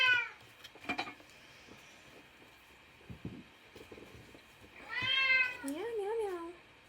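A cat meows a few times nearby, with a drawn-out, wavering meow near the end; a quiet voice is faintly present in the background.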